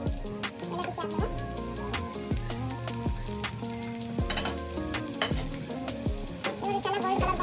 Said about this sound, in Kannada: ಇವಾಗ ಚೆನ್ನಾಗಿ ಗೋಲ್ಡ್ ಕಲರ್ ಬರೋವರೆಗೂ ಫ್ರೈ ಮಾಡ್ಕೊಳ್ಳೋದು ಆನಿಯನ್ಸ್ನ.